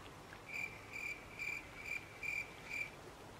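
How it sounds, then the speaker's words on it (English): Crickets chirp in six evenly spaced bursts, a high trilling pulse against quiet background hiss. "That was the perfect amount of silence to edit in crickets."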